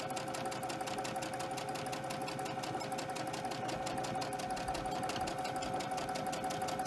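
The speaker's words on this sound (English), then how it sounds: "Now you can chain stitch all of these." Sewing machine chain stitching quilt fabric with white thread at a 2.5-inch stitch length, a steady rapid mechanical whir running continuously and close at even loudness throughout, with no talking.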